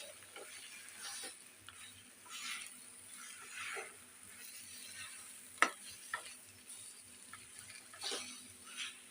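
A spoon stirs red gongura chutney with dried red chillies in a pan over low heat, giving faint repeated scraping strokes and soft sizzling, with no talking.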